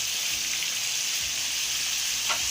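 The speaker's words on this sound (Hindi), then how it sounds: "थोड़ी देर मसालों को फ्राई करूंगी," Whole spices with cardamom sizzle and crackle steadily in hot oil alongside beef for nihari, a close, continuous frying hiss with no talking.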